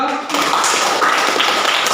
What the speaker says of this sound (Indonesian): Baik, tepuk tangan dulu untuk kelompok 3